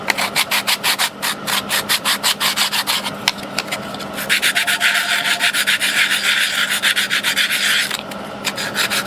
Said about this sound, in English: Sanding, there's never enough sanding that you can do.